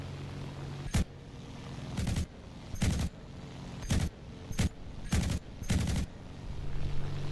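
Aircraft cannon fire in War Thunder from a French propeller fighter, loud repeated bursts of about half a second each, roughly seven in a row over a steady engine drone.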